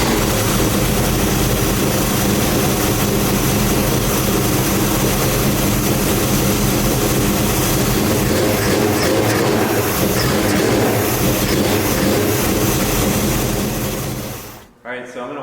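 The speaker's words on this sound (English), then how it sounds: "I'll give it a start up and a couple of little tiny revs so you can see how fast the engine responds" A fuel-injected car engine runs in a custom car shop, a loud, dense, steady roar held close for about fourteen seconds before it cuts off abruptly near the end.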